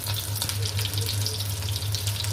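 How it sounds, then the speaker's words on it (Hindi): Egg-dipped shami kebabs frying on a hot griddle pan, giving a steady, even sizzle that runs unbroken throughout, fairly close, with no talking over it. "तमाम शामी को मैंने अंडे में डीप करके तवे पे रख दिया है।"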